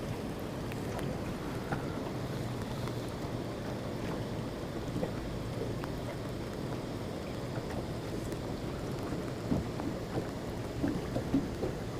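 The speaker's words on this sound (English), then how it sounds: "keep that rain off" Steady rain falls outdoors near a lake, a continuous soft hiss with scattered drops tapping close by and no voices.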